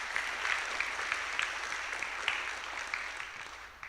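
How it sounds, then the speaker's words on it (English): Audience applause fills a school gathering at a high school honor society induction ceremony, steady clapping from a crowd lasting throughout at moderate level, with no talk over it. "but still deserves a round of applause."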